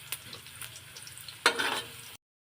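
Garlic, onion and ginger brown in a pan for ginataang gabi, a quiet sizzle with a couple of light utensil taps and one louder stir burst, short and close before cutting off.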